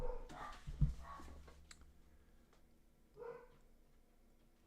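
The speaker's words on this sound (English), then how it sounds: "Mario, we can listen to dogs. They want to chat as well. They like to howl together." Several dogs barking, with a few short distant barks and yips separated by quiet gaps, fairly faint against a light background hum.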